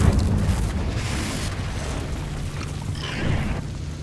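A Confringo spell bursts in Hogwarts Legacy as a loud, rumbling explosion with a booming low body, followed by a sustained crackling roar that swells again near the end.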